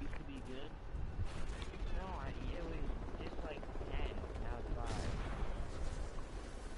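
Shotgun blasts in Call of Duty Ghosts multiplayer, repeated reports mixed into a dense, loud game soundscape of other gunfire and effects, with talk over the top.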